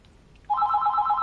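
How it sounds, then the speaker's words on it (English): A telephone starts ringing partway through, a loud, steady electronic trill that cuts in abruptly after a quiet moment and keeps going to the end. "And there's the phone again."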